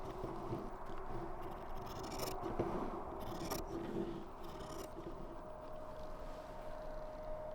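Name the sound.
scissors cutting fabric strips for bias tape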